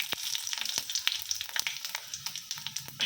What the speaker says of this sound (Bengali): আর এখানে ফোড়ন দেবো, এইসব 5 ফোড়ন